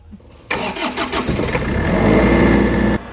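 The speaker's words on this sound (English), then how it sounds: "So right here at the front of the truck is your start switch for your generator." Generator on a food truck cranks briefly and catches, settling into a steady mid-pitched idle that runs loud and close for a couple of seconds before cutting off abruptly.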